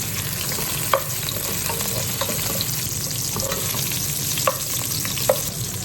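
Vegetables stir-frying in hot oil in a pan, a steady broadband sizzle with a few sharp utensil scrapes and taps scattered through, close and continuous with no talking.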